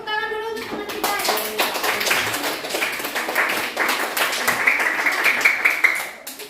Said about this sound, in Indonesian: Tepuk tangan dulu untuk teman kita ya